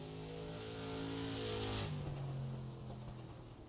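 A street stock race car in a racing video game, set on a short oval track, its engine droning steadily down the back straight with a shift in pitch partway through; the sound is moderate and continuous, with no talk.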